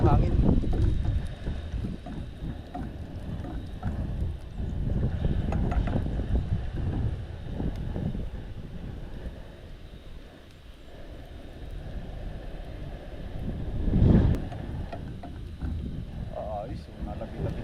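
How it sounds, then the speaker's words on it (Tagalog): Strong wind gusting across an open farm field during outdoor cooking, a loud broadband rush with a heavy surge near the end, under faint talk. "medyo malakas po yung hangin"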